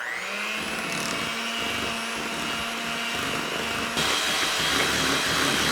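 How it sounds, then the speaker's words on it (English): A blender whirs steadily, mixing keto espresso cookie batter with erythritol, loud and close, and its pitch steps up near the end. "So I'm gonna blend this together"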